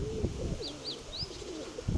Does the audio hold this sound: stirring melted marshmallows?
no